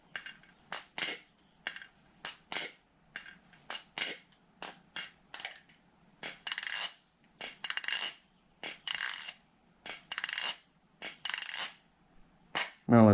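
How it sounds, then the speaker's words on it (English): Rapid metallic clicks and clacks from a flipping balisong butterfly knife, unlubricated, in quick irregular bursts with brief pauses, crisp and close. "let's do a sound test of this Balisong dry"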